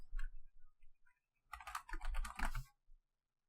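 Computer keyboard typing as URLs are entered by hand, quiet close-up bursts of rapid key clicks with a brief pause between runs.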